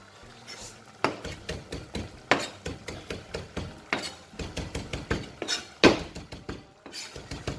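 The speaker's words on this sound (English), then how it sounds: "I'm gonna chop up a tiny bit of parsley, tiny bit, for 2 people" Parsley chopped with a knife on a board for a Sardinian fregola with cabbage and olives: a brisk run of close, sharp knocks in uneven bursts, with a louder strike now and then and no talking.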